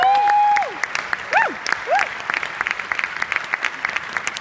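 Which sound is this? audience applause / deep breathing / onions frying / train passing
audience applause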